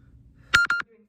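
Two short electronic beeps in quick succession, bright and clear against near silence.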